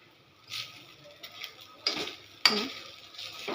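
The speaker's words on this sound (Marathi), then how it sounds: "सतत हलवत राहायचं याला जेणेकरून खाली चिटकणार नाही" Sabudana khichdi being stirred in a pan, with a few soft scrapes and clinks of the spoon against the pan, quiet and close, some louder strokes near the end.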